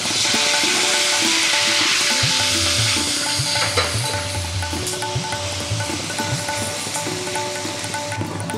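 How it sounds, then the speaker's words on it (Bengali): Onion paste stirred as it fries in a pan with chopped green chilli for a til fish curry, giving a steady close hiss with scraping spoon strokes and soft clicks throughout, no talking. "একটু নেড়ে নিয়ে এবার এতে দিয়ে দিচ্ছি আমি পেঁয়াজ বাটা।"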